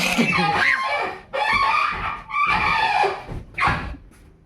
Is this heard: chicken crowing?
yes